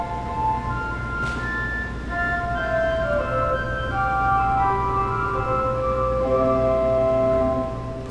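A 1924 Kilgen pipe organ's four-foot flute harmonique stop plays a soft melody of sustained, pure, whistle-like notes in a chapel, steady and moderately quiet over a low background hum.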